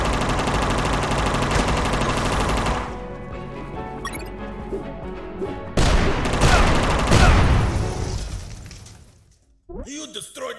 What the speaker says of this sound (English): You destroyed my machine gun.